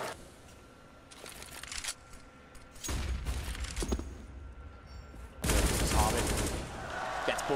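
Gunfire in the video game Counter-Strike on the de_train map during a Gambit vs Immortals match: bursts of rapid shots and a few single cracks, growing louder in dense stretches, with faint commentary underneath.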